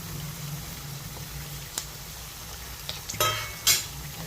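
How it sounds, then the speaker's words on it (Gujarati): Potato and capsicum sabji fries in a pan with a low, even sizzle, then chillies drop in and a few sharp stirring scrapes and spatters rise near the end. "હવે આમાં આપણે આ મરચાં નાખી દઉં"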